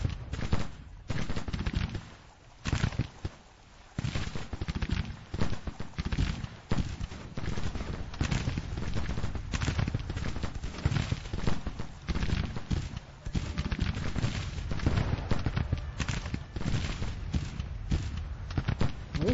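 Rattling volleys of musket fire from troops in the Civil War strategy game Grand Tactician crackle almost without pause, dense overlapping shots at mid distance with brief lulls, no talk over them.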